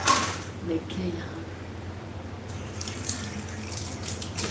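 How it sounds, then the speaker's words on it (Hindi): A plate washed under a running kitchen tap: steady, close hiss of flowing water splashing onto the dish for the whole stretch, with a voice faintly underneath. "इसको प्लेट पहले धो ले।"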